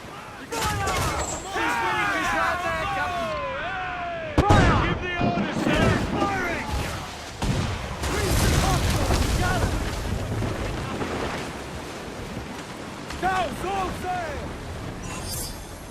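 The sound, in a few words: ship cannons firing in Assassin's Creed 4 Black Flag video game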